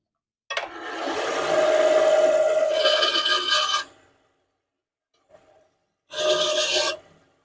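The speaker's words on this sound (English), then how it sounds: "we're just going to cut it out on the bandsaw" A bandsaw cuts quarter-inch wood pieces in two separate passes: a close, rasping whine lasting about three seconds, a pause of near silence, then a shorter second cut.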